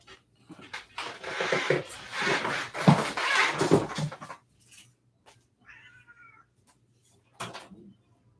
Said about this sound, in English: Let me let my cat out.